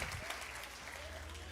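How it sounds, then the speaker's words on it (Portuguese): Church congregation applauding together during a worship service, a steady, dense wash of clapping that holds even throughout without pause. "dá um aplauso para o Senhor, que Ele merece"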